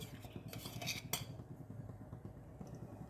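Metal clinks and light knocks as a non-stick kadai is set on a stove, a few quiet clatters close by over a soft background hum.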